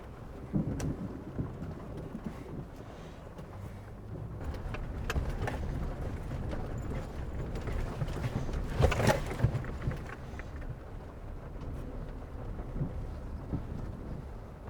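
Steady rain pours through a thunderstorm in Holcomb Valley's muddy backcountry, with low rumbling thunder building to a louder crack near the middle, the downpour constant throughout with no voices.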